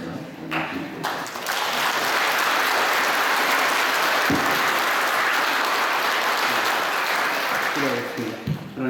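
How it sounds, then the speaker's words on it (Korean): A church congregation applauds steadily to welcome a guest speaker, dense sustained clapping filling the room for several seconds, with a few voices faintly audible at the edges. "이렇게 박수하시면서 말씀드립니다."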